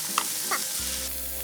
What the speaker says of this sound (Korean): 김치 투입? 어, 튀기, 튀기, 튀기.